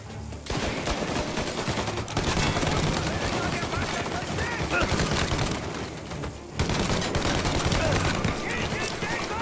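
Rapid bursts of automatic gunfire crackle almost continuously, with shouted German voices mixed in among the shots, in the video game Mafia: Definitive Edition.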